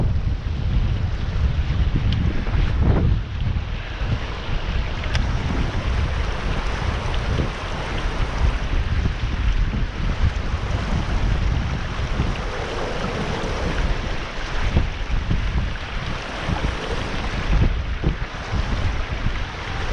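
Strong wind buffets the microphone at a riverside fishing spot, a loud, continuous low rumble with gusty surges and a hint of water movement beneath it, and no talking.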